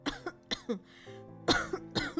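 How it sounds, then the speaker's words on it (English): A girl in a video game coughs again and again, close and sharp in short bursts of two, with a brief strained pause in between. "Yua coughed again and again."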